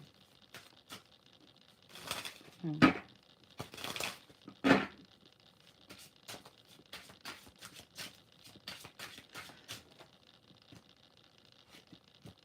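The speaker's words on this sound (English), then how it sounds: "These cards are so heavy and they're slippery as hell. They're heavy to shuffle." Heavy, slippery tarot cards are shuffled by hand: a few louder riffling bursts early on, then quieter irregular flicks and slides, close up with no talking.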